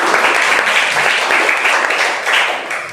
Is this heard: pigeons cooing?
no